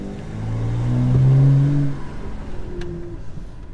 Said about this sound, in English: Sounds cool with all the turbo noises.